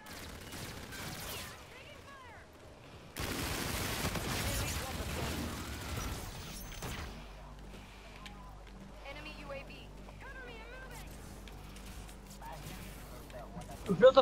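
Gunfire in Call of Duty: Infinite Warfare, a dense burst of rapid shots and blasts lasting a few seconds amid quieter game noise, with voices talking over parts of it.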